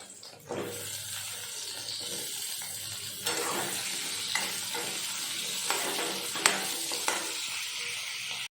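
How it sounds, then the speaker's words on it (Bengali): Hilsa fish being stirred in a wok with mustard oil, a steady sizzle with scraping spatula strokes and a few sharper clinks, close and fairly quiet, with no talking. "মাছটা একটু নাড়াচাড়া করে নিয়েছি।"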